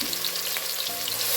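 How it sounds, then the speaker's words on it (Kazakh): Chopped onions sizzle in hot oil in a kazan, being browned as the base for a horse-meat kuyrdak. A close, steady, dense frying crackle runs unbroken throughout. "Қазанымызда енді пиязымызды салып жақсылап осыны қызартып турап аламыз"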